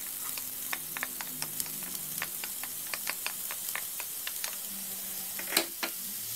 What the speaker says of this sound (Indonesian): Setelah itu kemudian bawang bombaynya ditumis dengan